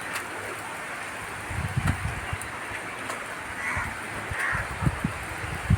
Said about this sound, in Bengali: বৃষ্টিটা খুব পড়ছে ঝমঝম ঝমঝম করে বৃষ্টি পড়ছে সকাল সকাল